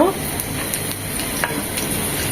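Two dry red chillies frying in a little oil with chopped onion for lau dal, a dense close sizzle with quick stirring scrapes throughout, no voices.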